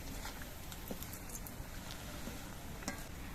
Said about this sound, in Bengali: এই নকল ডিমগুলো ভাজার সময় জালটা কিন্তু আস্তে দিতে হবে না হলে কিন্তু পুড়ে যাবে